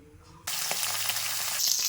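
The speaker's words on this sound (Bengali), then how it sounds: "তেলটা গরম হয়ে গেছে, এবার মাছগুলো ভেজে নেব।" Fish hitting hot oil in a wok: after a quiet moment a sudden loud, steady sizzle bursts in and hisses continuously to the end.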